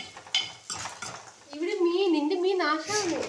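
Fried fish being flipped in a pan while making fish curry gives a few light clinks and scrapes of a utensil on the pan, followed by a voice speaking over it.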